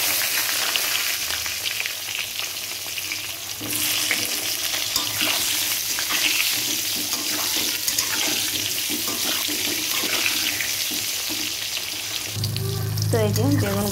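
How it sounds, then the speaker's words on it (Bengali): Eggplant pieces frying in hot oil, a loud continuous sizzle with stirring clatter, and toward the end a burst of running water like a tap filling nearby. "এই যে মাছ ভাজা তুলে নিয়ে বেগুনগুলো দিয়ে দিচ্ছি"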